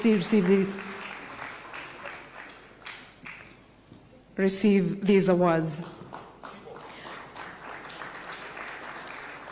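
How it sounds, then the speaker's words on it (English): An audience at a State House taxpayers' awards ceremony applauds in two bursts as recipients come forward, with someone speaking over the clapping and quieter stretches between. "A round of applause"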